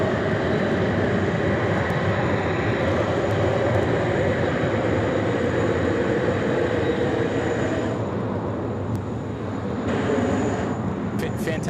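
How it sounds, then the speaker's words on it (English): Qantas jet airliner with GE CF6 engines taking off, a loud, steady roar filling the scene throughout, easing slightly near the end. "Fantastic sounds as well out of the CF6 engines."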